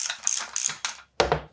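A ratchet socket wrench turns on a Fox Factory 38 Grip2 mountain bike fork during a service, producing quick bursts of close mechanical clicking separated by a short pause.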